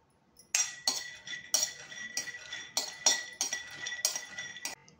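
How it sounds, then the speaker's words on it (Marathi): Peanuts, chickpeas and sesame seeds dry roasting in a pan, with a spoon stirring and clinking against the metal in quick, repeated bursts, close and fairly quiet. "शेंगदाणे, चणे, शेंगदाणे, तीळ वगैरे, ते आपल्याला ड्राय रोस्ट करून घ्यायचं आहे."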